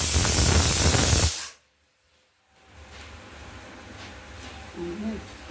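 A pressure cooker cooking dal (parippu) releases a loud, close hissing steam whistle that cuts off abruptly after about a second and a half, followed by quieter kitchen background and a voice speaking.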